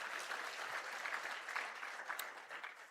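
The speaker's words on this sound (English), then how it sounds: "Another round of applause for him," An audience at a NUST university graduation ceremony applauds steadily, a dense wash of clapping hands sustained throughout without pause.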